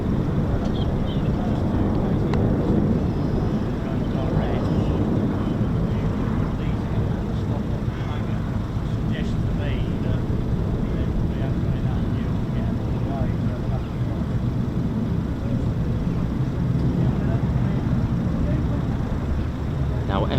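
F-35B stealth fighter jets of 809 Naval Air Squadron and 617 and 207 Squadrons fly past at an airfield. A loud, continuous, broadband roar persists throughout with wind buffeting on the microphone, and a voice talks over it.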